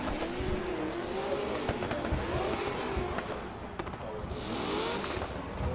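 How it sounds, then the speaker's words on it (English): A drift car drags its handbrake down a straight on track during a qualifying round, a steady loud engine drone with rising and falling pitch and a rough tyre scrub, heard from a distance with the crowd's noise beneath it. "a strange straight line handbrake drag there"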